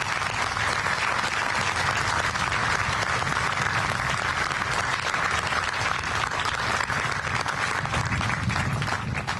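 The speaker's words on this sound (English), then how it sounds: "have everyone sound off with a loud applause for everybody who put this great event together today" Loud, sustained applause from a crowd at a 25th Infantry Division change of command ceremony, a dense, even roar of clapping running the whole time with no speech.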